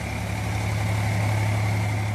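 Eicher 485 tractor engine idling steadily at a brick kiln while mixing brick clay, a loud, constant low diesel drone with a humming tone, close and continuous with no voices.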